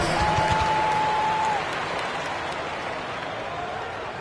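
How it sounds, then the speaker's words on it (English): Crowd in a Houston Rockets basketball arena applauds during a first-half timeout, a steady wash of clapping and noise that eases slightly midway, with a sustained whistle-like tone early on. "Give yourself a round of applause."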